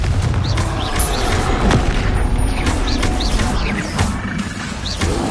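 Magic blast of the Confringo fire spell in Hogwarts Legacy, loud explosive bursts and crackling booms layered over continuous dense battle noise with roaring tones, no clear talk.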